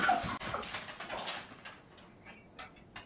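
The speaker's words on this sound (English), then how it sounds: "A pet owner captures a video of her Jack Russell Terriers confronting an ostrich as it reaches into the kitchen to steal food from the dog's bowls." Jack Russell Terriers confront an ostrich stealing food from their bowls in a kitchen. Excited yips, whimpers and barks come in a quick flurry up close, then fade to sparse faint sounds.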